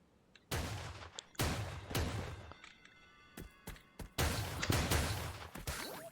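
Shotgun gunfire in the video game Creative Destruction: several loud, sharp blasts in irregular bursts, each with a short decaying tail, separated by quieter gaps.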